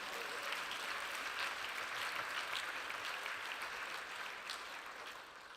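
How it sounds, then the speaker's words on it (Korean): A church conference audience gives sustained applause of thanks, a steady dense wash of clapping that holds for several seconds and eases slightly toward the end, with no one speaking over it. "우리에게 이 전쟁에서 승리를 주실 하나님께 감사의 박수를 한번"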